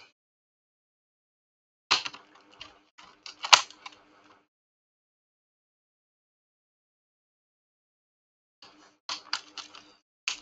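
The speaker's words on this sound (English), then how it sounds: "So let's disconnect this keyboard from the back." Keyboard connector on a Dell Latitude E5450 laptop gets unclipped: a few sharp plastic clicks and small rattles in two brief clusters, separated by silence, close and quiet.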